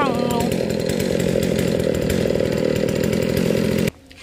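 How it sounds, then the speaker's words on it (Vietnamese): A chainsaw cuts into the trunk of a king palm, roaring loud and steady at close range for about four seconds before cutting off abruptly, with a voice talking over it. "Xuống dưới sẽ lấy máy cưa lên sau nha quý vị. Ba mình cưa ở dưới này luôn, hạ nguyên cái thân luôn."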